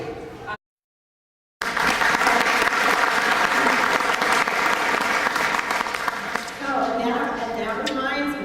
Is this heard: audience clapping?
yes